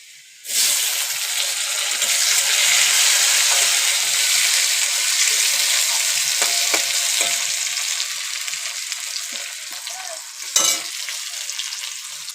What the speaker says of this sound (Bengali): এর মধ্যে এবার দিয়ে দেবো টমেটো কুচি।